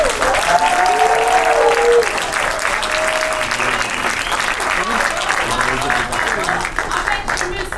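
An audience in Montreal applauds at a film retrospective screening on Africa, loud continuous clapping from a large crowd, with a voice briefly calling out over the first couple of seconds before the applause carries on alone.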